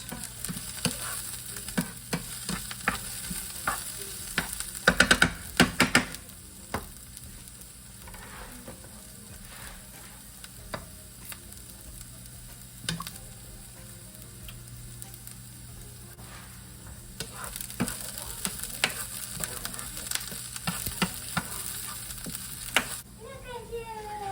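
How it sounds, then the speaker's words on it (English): Vegetables for a Thanksgiving dinner sizzle and hiss steadily in a hot pan, with bursts of scraping as they are stirred; a louder clatter of utensil on pan comes near the start, and the frying continues close and unbroken throughout. "After I give this another little stir here."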